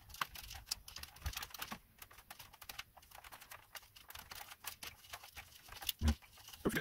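Cotton swabs dampened with alcohol are rubbed around the keys of a Commodore 64c keyboard, making faint, close, irregular clicking and scratchy patter with short taps throughout and no talking.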